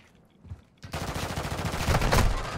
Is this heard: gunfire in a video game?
yes